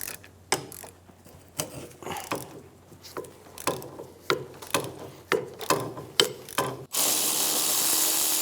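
Ratchet clicking in repeated short bursts while removing rear hub bolts on a 2003-2007 Infiniti G35, close and crisp with pauses between strokes, ending in a steady loud hiss.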